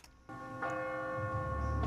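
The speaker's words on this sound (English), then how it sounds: "Is that a bell? What's the bells doing? Does a bell mean something?" Church-like bell tolls in a steady, ringing tone with a long sustained decay, loud and clear, and no talking alongside it.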